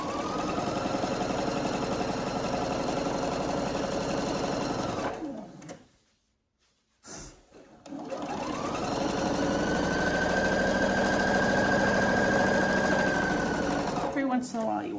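A sewing machine stitches up the sides of a dress in a steady, close, whirring run, stops briefly with a short pause and a click, then starts again and keeps humming along at an even pace.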